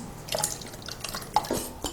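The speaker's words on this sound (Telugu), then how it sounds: "దీన్ని మిక్సర్ జార్లో వేసేసి మిక్సీ పట్టుకోవాలి ఫ్రెండ్స్" Mango pulp poured from a bowl into a mixer jar, a brief close series of wet drips and soft clinks against the jar.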